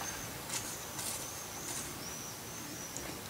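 Rock pigeons in the early morning, faint soft calls over a quiet hiss of background ambience, with a few brief higher chirps scattered across the stretch.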